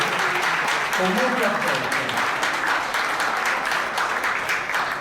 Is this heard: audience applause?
yes